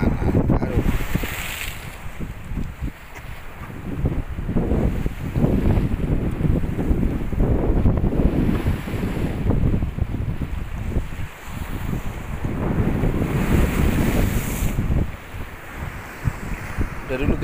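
Strong wind and big waves at Megamas beach in Manado, a steady loud roar of gusts buffeting the microphone over crashing surf throughout, with brief faint voices.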